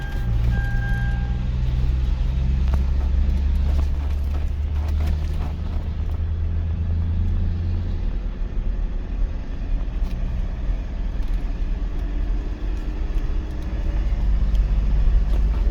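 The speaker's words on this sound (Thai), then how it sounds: "ผู้สาวขับแมคโครครับ" An excavator being driven at a dirt pit, a continuous low diesel engine rumble and drone that stays steady and fairly loud throughout, with no talking.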